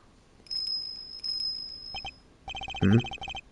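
A small bell tinkles in bright, high electronic chimes in the video game Ace Attorney Investigations 2, with short bursts of repeated ringing separated by brief pauses and a quick busier flurry near the end.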